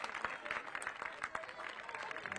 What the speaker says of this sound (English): Well-deserved round of applause for the Ponts.